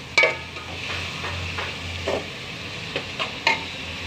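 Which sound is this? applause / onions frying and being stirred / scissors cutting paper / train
onions frying and being stirred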